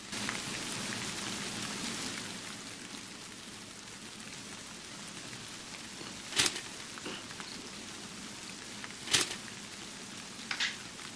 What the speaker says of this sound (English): The rain has become quite terrible.